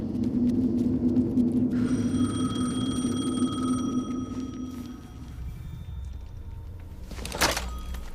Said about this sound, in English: phone again.